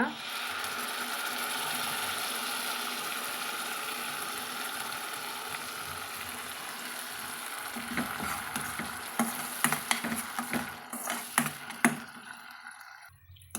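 Ground tomato paste frying in a pan for a cauliflower dish gives a dense, continuous sizzle. Toward the end, sharp scraping and tapping stirs break through, then the sound fades out.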